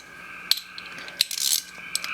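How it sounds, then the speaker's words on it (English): A ratchet with a 5/32 socket turns screws on a Mini Pocket Rocket bike carburetor, giving a few sharp metallic clicks and a brief rattling run, heard close and with no talking. "I'm using a socket drive here so I can use my ratchet here to get it in there faster."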